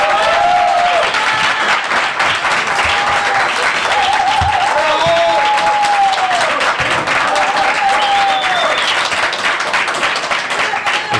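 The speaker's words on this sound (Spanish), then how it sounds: "voy a pedir un fuerte aplauso acá" Loud, sustained applause and clapping from a crowd at a political gathering, welcoming a speaker to the stage, steady and dense for about eleven seconds with a few voices calling out over it.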